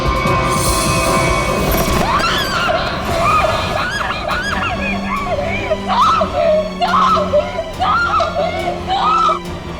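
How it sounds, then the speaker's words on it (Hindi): A woman screams loudly in repeated high, wavering bursts that rise over a busy background of other voices and commotion, continuing through most of the stretch. "इतनी जोर से क्यों चिल्ला रही है?"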